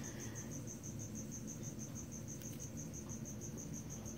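Soft, steady trill of a red phase eastern screech owl, a rapid pulsing note repeating evenly throughout and resembling an insect chirp, heard alone over a low background hum.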